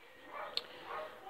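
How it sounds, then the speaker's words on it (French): Dogs bark and yip nearby at a roadside stop during a blue bicycle repair, two quiet bursts of barking with a brief sharp yelp between them, faint against a soft background. "Excusez-moi pour les chiens que vous allez entendre"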